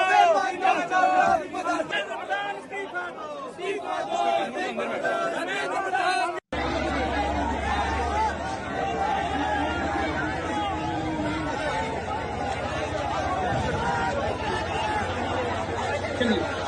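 A large street crowd of Gen Z protesters in Maharashtra around Pune and Kolhapur, dense chatter and chanting shouts forming a continuous roar that briefly cuts out before resuming even louder.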